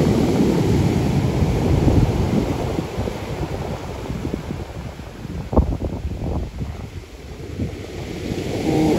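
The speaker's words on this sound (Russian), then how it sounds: "Ух ты, какая волна." Stormy sea waves crashing on the Sochi shore, a heavy continuous roar of surf with wind buffeting the microphone, rising and falling in broad surges, loud and close.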